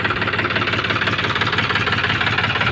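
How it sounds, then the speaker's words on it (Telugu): A John Deere 5104 45 HP black-engine tractor runs steadily nearby, its diesel engine giving a loud, continuous knocking chug with no talking. "బండి సౌండ్ అయితే మంచిగానే ఉంది."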